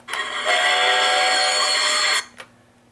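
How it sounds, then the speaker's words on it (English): A steam train whistle blows one long, loud, steady shriek lasting a couple of seconds, then cuts off, followed by a brief short toot. "Daddy heard Vinny's whistle."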